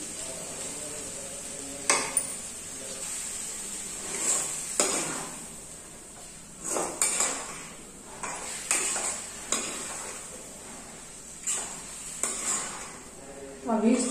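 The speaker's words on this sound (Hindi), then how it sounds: "अब आलू और कुंदरू फ्राई हो गई है, अब मैं मसाला डालूंगी" Potatoes and ivy gourd fry in a pan with a soft constant sizzle, punctuated by repeated scrapes and clinks of a spoon stirring against the metal at irregular intervals.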